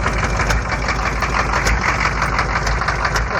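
A Chevrolet M1009 diesel engine idles after a cold start in bitter cold, giving a loud, steady knocking clatter with an even rhythm and no voices.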